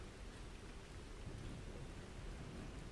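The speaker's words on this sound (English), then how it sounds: "The rain is still falling," Steady, dense rain pours without pause while low thunder rumbles beneath it, a full storm ambience with no voices.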